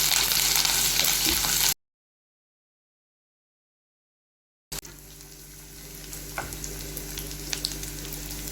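Pounded ginger, garlic and chilli paste frying in hot oil in a pan, a loud crackling sizzle at first, then a gap of silence, then a softer steady sizzle with occasional stirring clicks.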